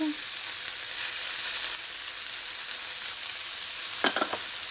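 Tomato paste fries in a pan with a loud, steady sizzling hiss that runs throughout, broken near the end by a few brief stirring scrapes.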